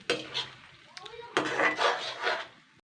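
Boiled vegetable peels from potato, pointed gourd, pumpkin, bottle gourd, green banana and ridge gourd being stirred in a pan, giving a few close, soft scraping strokes of a spatula with a light clink.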